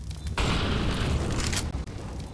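A flashbang grenade goes off in Counter-Strike with a sudden loud burst followed by a sustained bright ringing hiss that fades, heard close during a professional match.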